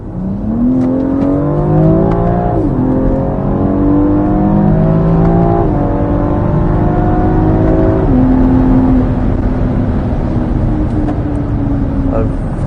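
A BMW G02 X4M engine revs up strongly through its 8HP automatic gearbox, a loud, continuous drone with smooth pitch rises and soft drops at each upshift, heard from inside the car.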